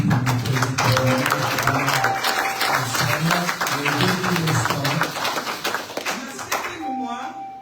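A church congregation applauds during a Sunday service, steady clapping filling the room for several seconds with voices and singing mixed in, then fading near the end.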